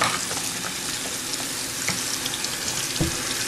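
Soapy hands rubbed and rinsed under a running tap, a steady close hiss of water splashing into a sink with small irregular splashes and a brief clatter near the end.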